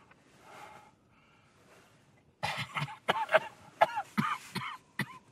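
A quick series of sharp coughs, fairly close, bursting out one after another after a few seconds of quiet breathing and faint sounds.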